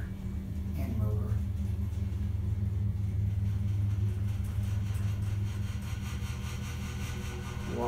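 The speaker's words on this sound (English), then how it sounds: "It's also a very loud generator and motor." A 1960s Westinghouse traction elevator's generator and motor run loud and steady in an apartment building, a constant low droning rumble with a faint whine and some clattering over it.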